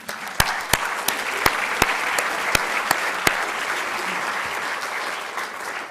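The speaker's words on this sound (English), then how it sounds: "I'd like us just to take a moment to give a round of applause to all the people who are not in this room" A conference audience at a water and health keynote breaks into sustained applause, a dense even wash of clapping with a few sharp, loud nearby claps standing out at irregular intervals throughout.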